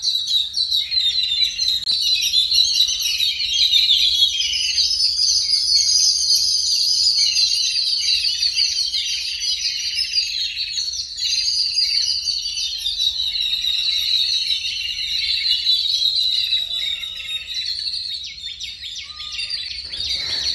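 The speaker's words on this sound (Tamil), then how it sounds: "குருவியோட சவுண்டு பார்த்தீங்களா, என்னம்மா சத்தம் போடுது அப்படின்னு" Small birds chirp and tweet continuously through a morning scene, a dense layer of high calls sustained throughout, fairly close and steady with no talk.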